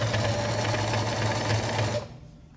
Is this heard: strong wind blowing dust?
no